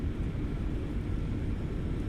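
An Airbus A320-232 rolls out after landing with spoilers deployed and reverse thrust, heard from inside as a loud, steady low rumble and roar throughout.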